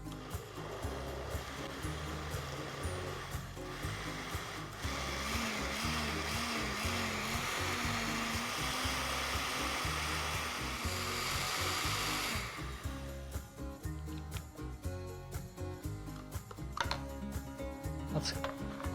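A blender whirs loudly and steadily, pureeing a cooked tomato mixture for paneer makhani, its motor grinding on for about twelve seconds before cutting off, with some clattering and faint voices afterward.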